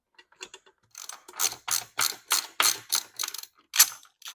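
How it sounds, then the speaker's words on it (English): A hand ratchet works the two 10 mm bolts holding the rear cylinder ignition coil on a Kawasaki Vulcan 750 motorcycle tilted on its side. There are a few light clicks, then a steady run of rapid close ratcheting strokes. "I'm going to remove the two 10 mil bolts holding on this rear cylinder ignition coil."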